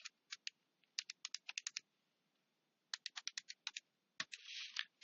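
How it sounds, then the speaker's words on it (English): Numbers keyed into a calculator, with crisp, close button clicks in quick bursts separated by short pauses, ending with a brief scratchy rustle. "we're going to type those into the calculator."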